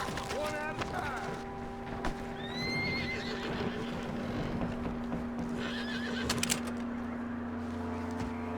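In the Red Dead Redemption 2 video game, a horse whinnies and neighs several times over the clip-clop of hooves and a steady low background hum, with faint voices mixed in.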